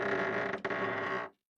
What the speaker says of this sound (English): The door opened.